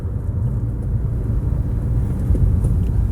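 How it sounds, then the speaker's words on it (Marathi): A car engine drones steadily and loudly, low and rumbling, right after a direct shift into first gear at high speed, with the gear failing to engage; no one speaks. "आता मी पुढे जाऊन डायरेक्ट पहिल्या गिअर टाकतो"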